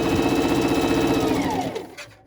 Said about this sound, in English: Now I'm going to stitch.